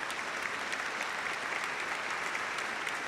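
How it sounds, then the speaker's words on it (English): Steady, dense applause from an awards-ceremony audience at an insurance-sponsored legends event, a continuous even wash of many hands clapping at constant loudness with no voices. "A big round of applause for my husband, please."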